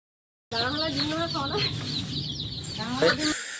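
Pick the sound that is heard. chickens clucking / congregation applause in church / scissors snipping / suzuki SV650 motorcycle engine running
chickens clucking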